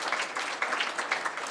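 Audience applause at an African languages conference, a dense even patter of many hands clapping close and fairly loud throughout, with no voices over it.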